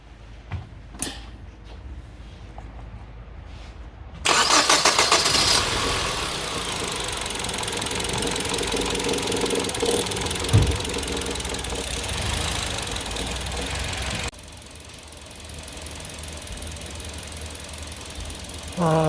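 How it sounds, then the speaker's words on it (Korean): A car engine cranks and starts, then settles into a rough idle with an occasional misfire, its loud running broken by irregular knocks and a squeal, close to the microphone with no talk. "지금 부조를 한 번씩 하는 상황인데 어떻게 나타나는지 한번 보겠습니다."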